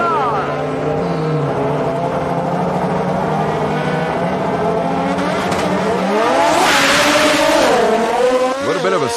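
Drag race cars at the 1991 ATCO Pan American Nationals launch off the line, roaring engines climbing in pitch with a loud surge and sharp crackle near the end, under a commentator's voice.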